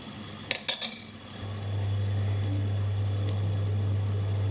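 Metal spoon clinks a few times against the side of a pot while stirring spiced black milk tea, then a steady low hum of the stove and pot on medium simmer carries on alone.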